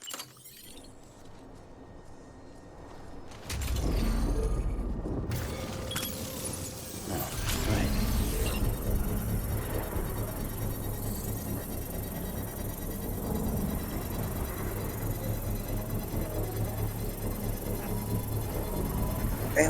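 Generator being constructed in the video game Death Stranding: glassy clinks and shattering crackles give way to a dense, steady mechanical whir and rumble that holds until the end, loud and with no talk.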